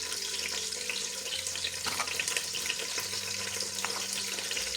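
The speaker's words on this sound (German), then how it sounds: "während der Knoblauch jetzt kocht" Garlic cooking in a pan for a spicy tomato chili chutney with peanuts, giving a steady, fairly loud hiss and crackle that runs throughout without talk.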